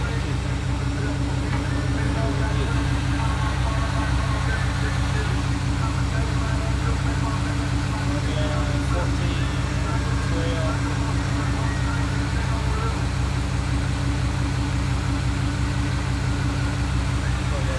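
A 1983 Chevrolet C10 truck engine idles steadily and close by, a low continuous rumble with a faint whine, while someone talks over it.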